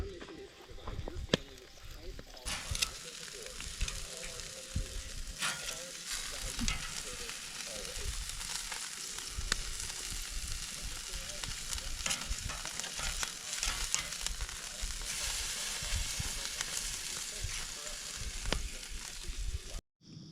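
Steaks sizzle and fry at an outdoor campsite, a steady crackling hiss with intermittent scrapes and pops, while someone speaks over it at intervals.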